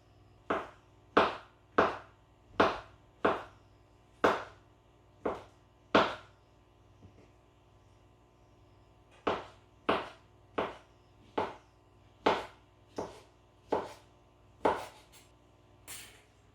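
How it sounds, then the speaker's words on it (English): A knife chops mushrooms finely on a board for vegan tantanmen ramen, with crisp, evenly spaced thuds in two runs separated by a short pause, close and clear with no talk. "we're going to try to cut up the mushrooms as small as possible"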